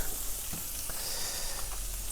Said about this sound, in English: while we are shallow frying the paneer